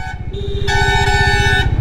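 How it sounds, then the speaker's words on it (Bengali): Vehicle horns blare on an Indian national highway, a loud sustained honk over a lower tone and then a second horn joining in chorus, close by and continuous over rumbling engine noise. "হর্ন দিয়ে চলে যাচ্ছে, গেলেই হলো"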